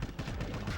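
Continuous video game gunfire from Destiny 2, dense and sustained with no clear gaps between shots, heard alone without voices.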